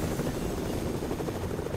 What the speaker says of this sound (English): Where was the chopper anyhow?